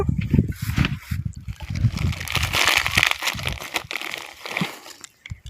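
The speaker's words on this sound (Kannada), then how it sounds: "ಒಂದು ಬಕೆಟ್ ನೀರು ಹಾಕೊಂಡು" Water from a bucket pours and splashes steadily at close range for several seconds in a farm setting, with a sloshing, trickling wash and brief pauses.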